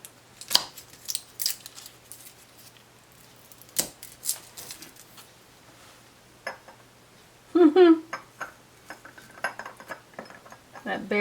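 Small garlic cloves pushed one by one into a glass bottle for a three-ingredient Southern pepper sauce: sparse, sharp clinks and taps of glass spread across quiet gaps, with a louder cluster of rattling knocks near the end and a brief voice.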